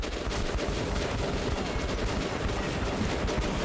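Enemy gunfire in the Metro 2033 video game, a relentless stream of rapid shots and bursts filling the scene, loud and close with no pause.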